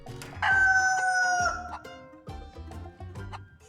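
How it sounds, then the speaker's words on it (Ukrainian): A rooster crows loudly in the video game DayZ, one long drawn-out call near at hand, followed by softer clucking and low background game sounds. "Так, а ну пропишіть хтось цьому петуху в щі, бо дуже сильно кричить."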